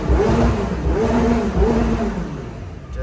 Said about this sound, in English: I wanna see if I can give you guys a couple revs in here.